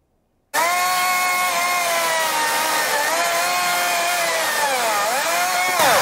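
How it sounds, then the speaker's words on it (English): A battery-powered chainsaw starts abruptly and runs loud and close for several seconds while cutting through a tree limb, its steady whine dipping briefly as the chain bites into the wood. "You got that cut in 10 seconds. That limb, all on a battery-powered saw."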